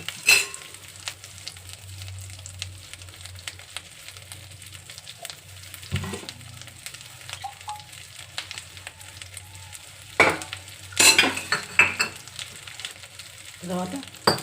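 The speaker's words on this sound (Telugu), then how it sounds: "ఇది అడుగంటకుండా ఇలా సిమ్లోనే పెట్టి దీన్ని మగ్గనియాలండి." Stuffed brinjal simmers on low heat in a pan, giving a soft, steady sizzle. A few louder scrapes and clinks come from stirring, with no talking.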